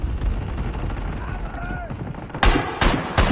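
The .50 GS pistol fires in Call of Duty Mobile: three loud, sharp shots come in quick succession near the end, after quieter game ambience with a brief tonal effect.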